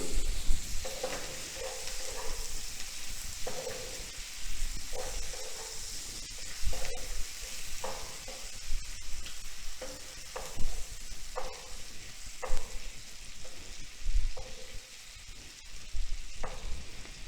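Butter garlic prawns sizzle and fry in a pan over a low flame, with a steady hiss and regular scraping stirs that repeat every second or so, close and fairly loud with no talking.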